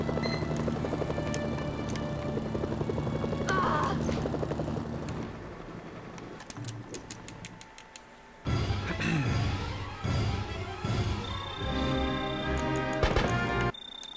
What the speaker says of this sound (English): I'm really glad I have so much helicopter health